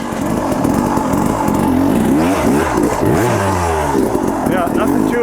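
Enduro motorcycle engine revving hard in bursts as the rider powers over a log on a trail, loud and close, rising and falling pitch with clattering under a voice.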